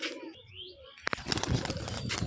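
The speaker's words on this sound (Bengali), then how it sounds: "চলেন কবুতরটার বাজি দেখি, পাখাটা ছাড়িয়ে বাজি দেখবো এখন।" A newly acquired tumbler pigeon released to fly, with soft cooing and calls at first, then a sharp burst of clattering wing flaps and rustling close by, continuing as it takes off.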